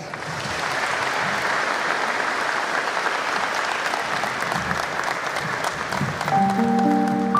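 Audience at a police honor ceremony in La Maná, Ecuador applauding loudly and steadily, a dense crowd clapping that continues throughout, with a voice starting to speak over it at the very end.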